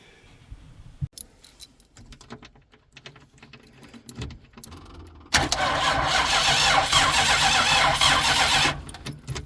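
A vehicle engine at a rural Alaska property cranks through several uneven bursts with clicks and key rattles, then catches and runs at a steady, loud idle before cutting off.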